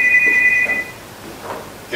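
A telephone bell rings in a short steady burst during a staged Hindi play, then cuts off, leaving a quiet room with faint movement.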